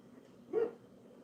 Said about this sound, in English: What is doggy barking at?